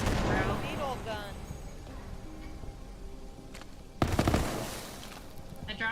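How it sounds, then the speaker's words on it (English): A needle gun firing in a Borderlands video game, with sharp bursts of shots that are loudest after the midpoint, amid game effects and a voice talking. "Needle gun."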